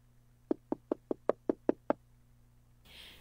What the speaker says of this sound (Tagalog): May kumakatok! Tingnan mo nga kung sino yan.